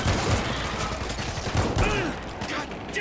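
Gunfire from the zombie shooter World War Z, a steady stream of shots and bursts mixed with game sounds under talk from players.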